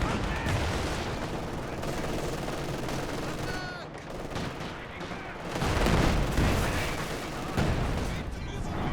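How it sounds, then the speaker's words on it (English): An artillery barrage in the Company of Heroes 2 video game, with dense rumbling gunfire, booming impacts and bursts of machine-gun fire layered into a continuous loud battle din, a commentator talking over it. "This barrage coming in."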